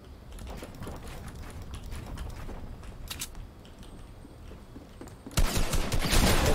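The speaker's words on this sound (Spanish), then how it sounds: "Me están disparando de dos lados." Rapid gunfire in a video game arena match, shots coming from two directions in dense, continuous bursts that swell louder near the end.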